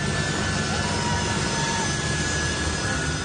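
Jet engine of an American Globemaster military transport plane, a loud, steady roar with a high whine running through it, continuous and unbroken for the whole stretch with no voices.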